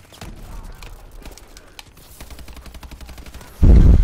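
Rapid gunfire from a shooter video game on the Urban map of the Havoc DLC, with steady bursts of shots throughout and a much louder, close blast at the end.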